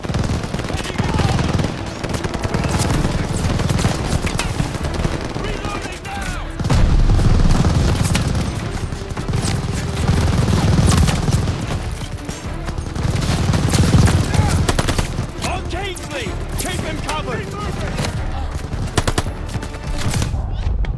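Call of Duty Vanguard battle with machine gun fire at a half-track, loud sustained bursts of rapid automatic gunfire with booms and shouted voices mixed in, continuing without pause throughout.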